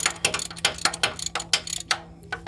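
A ratchet wrench loosens a bolt on a Yukon AC compressor in a cramped engine bay: a rapid, uneven string of sharp metallic clicks, close and fairly crisp, over a low steady hum.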